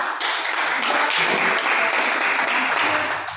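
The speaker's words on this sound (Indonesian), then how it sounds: "Tepuk tangan untuk kelompok" Classroom applause for a student group after a presentation, a brief burst of dense clapping from a room of students lasting a few seconds, then fading.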